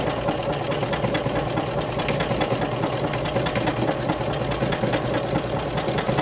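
A sewing machine runs steadily in a close, continuous mechanical hum with a fast rhythmic chatter as it stitches a wide zigzag stitch on fabric for postcards, with no talking.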